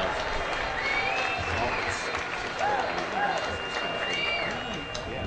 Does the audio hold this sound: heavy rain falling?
no